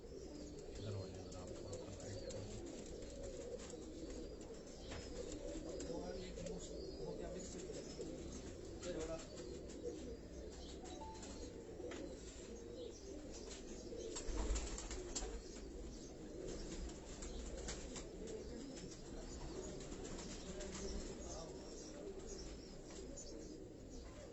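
Champion racing pigeons at a Karachi loft coo softly in a low, steady murmur, with occasional wing flaps and faint chirps, all distant and muted beneath someone talking.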